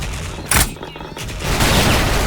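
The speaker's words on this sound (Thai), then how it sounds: "ยืนตรงนี้โดนระเบิดตายนั่นเพื่อนนะเห็นไหม" Loud gunfire and explosions from a team shooter match in Sudden Attack, a sharp blast near the start followed by dense bursts of rapid shots.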